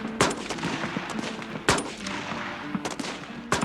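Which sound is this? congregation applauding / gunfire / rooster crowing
gunfire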